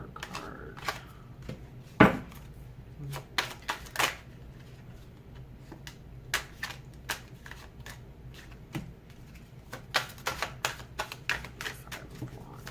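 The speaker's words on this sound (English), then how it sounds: "I'll show you the cards. I'm just gonna lay them down." Tarot cards are set down one by one on a table, making sharp, sparse taps and slaps with quiet gaps between them, close by and with no talking over them.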